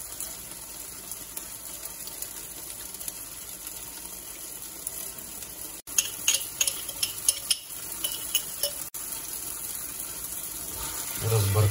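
A spoon works through homemade kyopoolu, a roasted eggplant dip, in a bowl with soft wet scraping and clicking strokes that repeat irregularly over a steady background hiss, growing busier toward the end.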